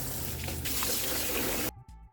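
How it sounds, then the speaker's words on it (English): Running tap water pours steadily over cut fumbwa leaves being rinsed for a peanut butter vegetable dish, a close, even hiss that cuts off abruptly near the end. "What I'm gonna do is just rinse it."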